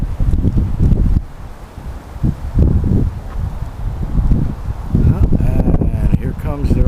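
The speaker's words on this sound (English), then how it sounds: "It's getting a little breezy out." Breezy wind gusting across a campsite with a grill and fire pit, rough low-pitched buffeting close on the microphone that surges and drops in bursts, with rustling in the background.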